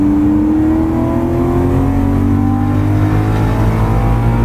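A BMW M3 V8 accelerating hard on the Nürburgring, a loud, close engine roar with the pitch climbing steadily through the revs, heard from inside the car with no talking.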